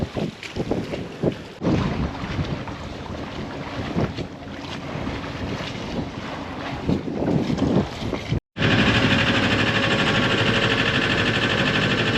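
A sailboat under way at about 4.5 knots off Catalina Island, with heavy wind buffeting and rushing water and waves throughout, cutting out briefly before a steady, louder roar of wind resumes.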